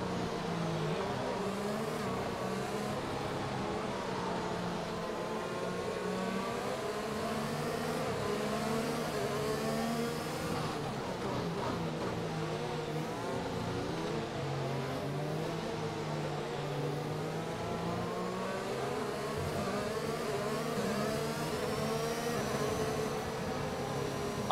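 In the F1 2021 racing game at the Baku street circuit, a Formula 1 car engine whines and revs steadily, its pitch rising and falling as it accelerates, loud and continuous with no talk.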